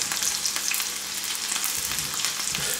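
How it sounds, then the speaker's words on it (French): Bacon lardons hit melted butter in a pan and sizzle loudly and steadily, a dense close-up crackle with no voices. "Mon beurre est fondu. On ajoute les lardons."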